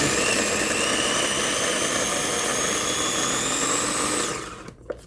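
Electric food chopper running on onion, a loud continuous motor whir close by that holds steady for about four seconds, then cuts off abruptly, leaving near silence.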